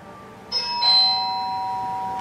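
A doorbell chimes once, a clear two-tone ding-dong at moderate loudness with a lingering ring in an otherwise quiet room.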